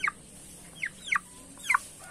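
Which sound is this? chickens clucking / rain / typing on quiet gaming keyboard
chickens clucking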